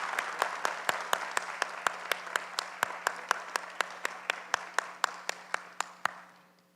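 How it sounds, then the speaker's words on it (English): Audience applause for Shoshana Johnson at a university event, a steady run of sharp, evenly spaced claps that fades out near the end, with a low steady hum underneath. "can we please applaud her again"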